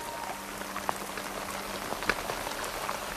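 Rain falls steadily on a surface, a soft even hiss dotted with a few sharper drop impacts, with no voices.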